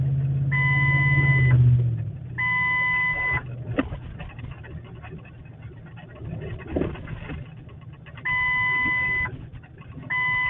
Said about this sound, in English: You hear that ABS sensor going off?